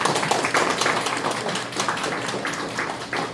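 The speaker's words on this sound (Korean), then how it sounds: "다들 박수 한번 부탁드리겠습니다." Attendees at a council education committee agreement signing ceremony applaud together, steady dense clapping from a roomful of people sustained at even loudness throughout.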